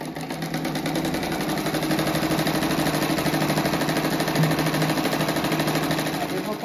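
A domestic sewing machine stitches a square-patch envelope cushion, running as a steady, close mechanical whir with fast rhythmic needle pulses and no pauses for the whole stretch.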